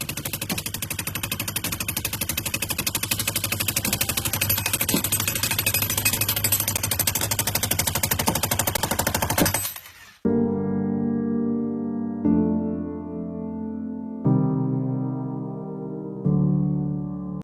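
Rapid, dense banging and clatter of hammering nails against a nail gun for about ten seconds, then the noise stops, followed by several separate sustained tonal notes.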